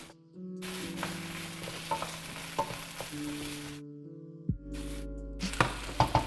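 Meat frying in a heavy wok, a steady broadband sizzle with occasional clicks and scrapes and a sustained tonal hum running underneath, pausing briefly before the sizzling resumes.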